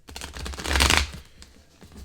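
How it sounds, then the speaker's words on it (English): A deck of tarot cards is shuffled thoroughly by hand, a close, crisp riffling rustle that swells to a dense burst near the middle, then thins into lighter, scattered card flicks and taps. "I like to shuffle very thoroughly because one of the ways I cleanse my tarot is"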